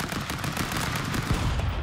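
Guns blast in a Stick Fight: The Game round, a dense and continuous stream of rapid gunfire and impacts that stays loud from start to finish with no voices.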